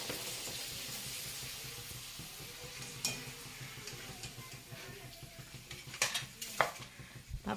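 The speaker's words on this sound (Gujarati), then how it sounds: "પાપડ તળાઈ રહ્યા છે." Papad frying in hot oil for a shrikhand-puri meal makes a soft, low sizzle, with stirring, utensil scrapes and a few sharper clinks toward the end.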